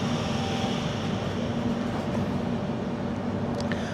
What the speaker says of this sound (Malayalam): നമ്മൾ ഗുഡൂർ ജംഗ്ഷൻ സ്റ്റേഷനിലേക്ക് പ്രവേശിച്ചിരിക്കുകയാണ്